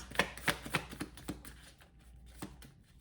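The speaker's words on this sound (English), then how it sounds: "This deck is so hard to shuffle because the cards are..." A deck of tarot cards being shuffled, giving a few sharp, quiet riffling snaps in a rough rhythm at first, then thinning out to sparse soft taps.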